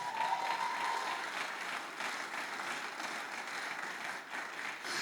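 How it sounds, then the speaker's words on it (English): Faint, even applause from an audience at a motivational talk, a soft, continuous wash of clapping that holds steady for about five seconds without a break. "Somebody clap for Jesus."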